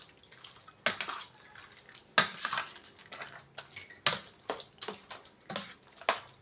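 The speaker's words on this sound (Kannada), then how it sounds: "ಇದನ್ನೆಲ್ಲ ಚೆನ್ನಾಗಿ ಮಿಕ್ಸ್ ಮಾಡ್ಕೊಳ್ಳೋಣ." Curd rice being mixed with milk in a bowl, a series of wet, squelching stirs and clinks of a spoon against the bowl coming in irregular bursts, close and fairly quiet.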